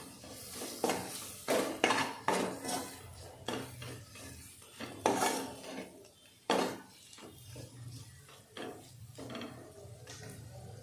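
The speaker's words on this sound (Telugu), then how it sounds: "అలాగే కొంచెం జింజర్ గార్లిక్ పేస్ట్ వేస్తున్నాను. ఇది కూడా మిక్స్ చేసుకున్నాం." A spatula stirs ginger garlic paste into crab curry in a metal pan, making repeated close scraping and clattering strokes in an irregular rhythm, some sharp and loud, others soft rubs.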